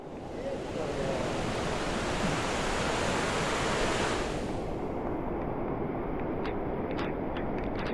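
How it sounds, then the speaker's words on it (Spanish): Overflowing floodwater after heavy rains rushes in a loud, steady broadband roar, close and continuous throughout, with a few faint clicks near the end. "el agua, vean cómo se ha desbordado a un punto que ¡hoy!"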